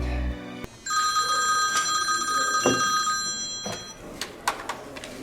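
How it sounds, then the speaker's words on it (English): An old-style telephone bell rings urgently in the early morning, one long shrill electric trill lasting a few seconds, then a few clicks and knocks as it stops, loud and close. "early the next morning an urgent phone call woke me"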